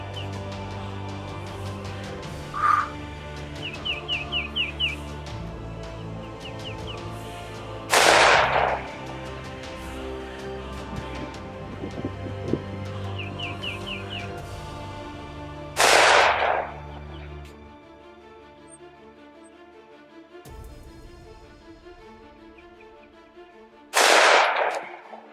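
Three sharp, loud reports from a Taurus PT111 G2 9mm handgun firing 124 grain Speer Lawman rounds, spaced several seconds apart with quiet outdoor background between shots.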